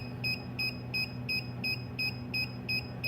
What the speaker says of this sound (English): when it reaches the 3-second mark, you'll hear a beep